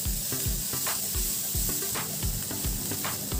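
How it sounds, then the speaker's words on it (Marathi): Vegetables sauté in a pan for a monsoon breakfast snack, a continuous close sizzle with a steady rhythm of spatula scrapes and taps about every half second. "एक साधारण 2 ते 3 मिनिटे आपण हे व्यवस्थित छान परतून घेणार आहोत"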